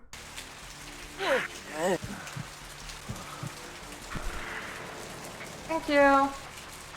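Rain falls steadily on surfaces in the dark city streets of the video game Vampire: The Masquerade – Bloodlines, a soft constant hiss beneath a voice and a few brief tonal game sounds.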